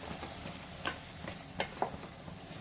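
Quiet stirring of millet sambar rice in a pan, with a few soft scraping clicks over a low steady sizzle.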